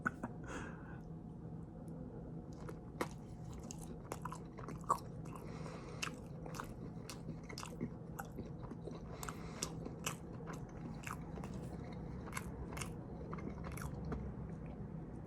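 Close, crisp bites and chewing of hot dogs, chips and mixed fruit, with sharp crunchy snaps repeating steadily over a quiet, soft background, no talking.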